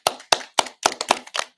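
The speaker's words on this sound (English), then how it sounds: "let's have a round of applause" Six or seven sharp, evenly spaced hand claps ring out close and clear, a short rhythmic round of applause for a school Odyssey of the Mind team and its coaches, with no voices over it.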